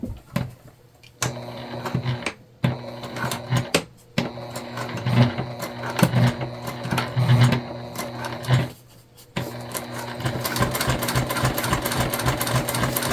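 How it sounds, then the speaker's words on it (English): Sewing machine topstitching along the top edge of a crossbody bag, running in several bursts of rapid even stitching with short pauses between, then a longer continuous run, close and clear with no talk. "We're just going to top stitch on the top edge only."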